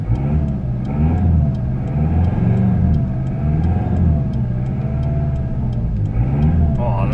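A Mitsubishi L200 pickup driving on its first outing after revival, its engine a steady, loud, close rumble with slight rises in revs, while a person talks over it.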